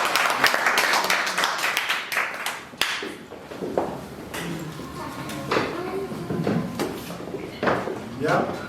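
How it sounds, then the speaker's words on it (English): An audience at a community event applauds to welcome two police officers, a burst of close clapping that thins out toward the end amid some knocks and shuffling. "Please give them a warm applause."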